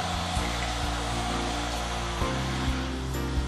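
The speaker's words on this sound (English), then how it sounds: "Turn the valve to the left to start the water flow." Water runs from a water heater's drain valve into a container, a steady broadband rush with a low rumble that holds constant and fairly quiet throughout, with no voices.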